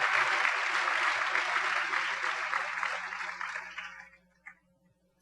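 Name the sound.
audience applause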